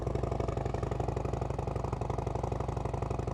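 A 2025 Harley-Davidson Low Rider ST motorcycle engine runs at a steady idle, a deep, rhythmic V-twin pulse with even low thumps repeating throughout, close by and without speech.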